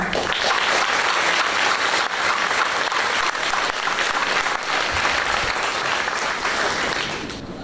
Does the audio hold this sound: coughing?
no